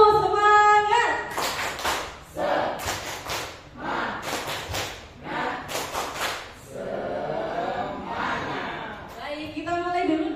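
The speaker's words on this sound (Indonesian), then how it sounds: "Tepuk semangat." A group of adults at a teacher training session on positive school culture performs rhythmic 'tepuk semangat' clapping: short bursts of patterned claps alternate with chanted voices, fairly close and moderately loud.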